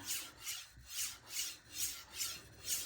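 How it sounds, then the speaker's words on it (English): A knife drawn across a Nano Hone diamond resin sharpening stone under light pressure, giving a close, quiet rasping scrape in about seven even back-and-forth strokes, with no talk. "So I tend to use my hand weight when sharpening knives."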